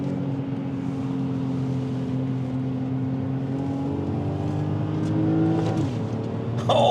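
A BMW 525i E34 with a manual gearbox pulls hard under acceleration, its engine drone climbing steadily in pitch before easing off as a gear changes near the end, loud and close from inside the car.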